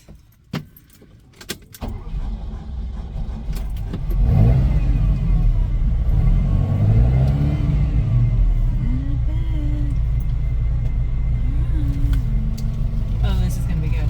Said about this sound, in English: Let me give it a little gas.